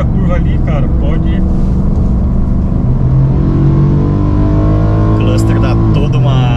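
A new Ford F-150 pickup truck climbs an overpass on asphalt. Its engine drones loud and steady from inside the cab, rising slightly in pitch, while people talk over it.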